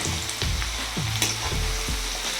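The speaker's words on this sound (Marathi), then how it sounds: "मस्त क्रिस्पी होईपर्यंत आपल्याला हे परतून घ्यायचे आहे तव्यावर" Methi aloo paratha cooking crisp on a hot tava gives a steady, close oil sizzle. Several soft scraping knocks from turning or pressing punctuate it, and nobody speaks.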